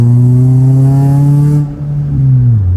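A modified car with a K24 engine and aftermarket exhaust revs hard up close, holding a loud, steady buzzing note before cutting off and settling back into a lower idle.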